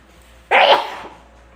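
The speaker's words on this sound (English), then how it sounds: "Oh, I'm gonna sneeze." One sharp, loud human sneeze bursting out after a quiet moment, close to the microphone, then fading quickly.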